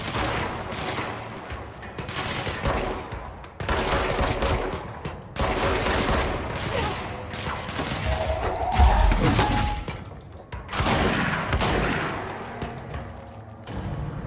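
Gunfire from a gun in the video game Control, sounding as repeated loud bursts of rapid shots in clusters about a second or two long, separated by short gaps, with crashing impacts mixed in.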